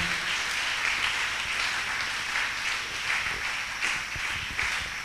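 Church congregation applauding together, a steady dense wash of clapping hands that holds throughout, fairly loud and continuous with slight swells, no voices standing out.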